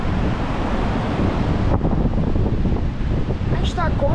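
Strong wind buffets the microphone on a beach in a constant loud roar, with faint surf underneath and a brief chirp near the end.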